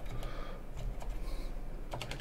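Rapid typing on a computer keyboard: a steady stream of close, dry key clicks with a few louder clusters, over a constant low hum and with no voices.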